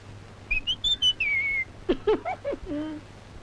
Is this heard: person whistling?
yes